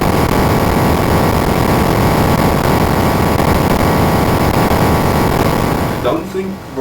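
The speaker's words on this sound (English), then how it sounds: "This is just a very chaotic behavior to demonstrate what that can sound like" Chaotic output from a bee-inspired swarm sound synthesizer: a dense, droning, engine-like buzz of many overlapping voices that stays loud and steady before cutting off abruptly near the end.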